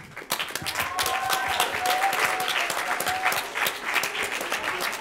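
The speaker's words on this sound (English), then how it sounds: "give a big warm round of applause to all the school children" A large audience gives loud, steady applause for school children at the close of a games event and awards ceremony, with dense clapping that starts abruptly and holds at full strength throughout.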